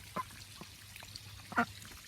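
Welsh Harlequin ducks kept on a family homestead give a few short, faint quacks, with one clearer call near the end over quiet background.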